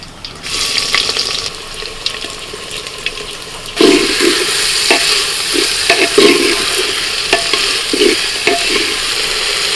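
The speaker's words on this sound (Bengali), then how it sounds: "এবার দিয়ে দিচ্ছি পেঁয়াজ কুচি" Chopped onions go into hot oil in a clay pot and fry with a loud, continuous hissing sizzle, broken by a series of soft thumps from stirring in the second half.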